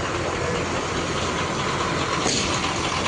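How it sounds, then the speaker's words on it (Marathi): Bus engines idle at a crowded Sangameshwar bus stand during the Ganpati festival rush, a steady low rumble filling the air with no talk. "आता गाड्या भरपूर आल्या आहेत"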